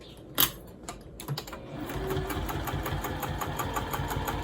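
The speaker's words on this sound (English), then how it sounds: "I like to flip it over and just sew exactly on that stitching line we just" A sewing machine runs in a steady rapid chatter, stitching through a bag lining with a zipper sandwiched inside, starting after a few handling knocks and continuing evenly up close.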